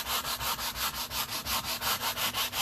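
Brisk back-and-forth scrubbing of a stiff brush on painted fabric, a rhythmic rasping swish repeating about five times a second, close and steady.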